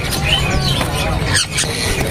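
A cucak emas bird squawks close by in shrill, scratchy calls and squeals repeated over a couple of seconds, above a busy background murmur.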